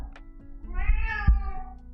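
A pet cat meows twice at home, the second call longer and rising, close by and fairly loud over a low indoor hum, with no one talking.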